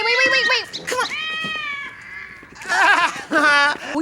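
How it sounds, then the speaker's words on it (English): Several cats meow in a TV comedy scene, a close chorus of overlapping, drawn-out and rising meows that come in bursts with short pauses between them. "Wow, there are a lot of cats back here."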